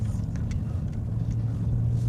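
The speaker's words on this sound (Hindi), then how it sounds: "तो घाट पे अपहिल में जब मैं गाड़ी ऊपर चढ़ा रहा हूँ ना एक्सीलेट करके, तो वो फायरिंग का आवाज़ बहुत ज़्यादा आ रहा है।" Simulated V8 engine firing sound from a Mahindra BE6 electric car accelerating uphill on a ghat road, a steady loud low rumble that holds continuously throughout with no voices.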